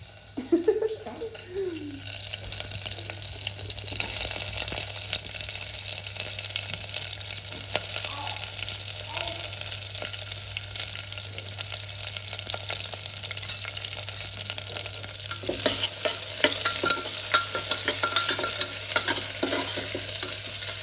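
Onions fry in hot oil for pulao, giving a steady, close sizzle with scraping stirs throughout and a brief faint voice near the start.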